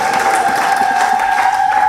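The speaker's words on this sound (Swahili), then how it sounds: "Sema amina kwa vigelegele kwa shangwe." A congregation at a Lutheran church service in Mabwepande, Tanzania, ululates and cheers together, a loud, dense and sustained wall of shrill trilling voices mixed with crowd noise.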